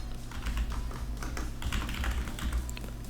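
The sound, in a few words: typing code on computer keyboard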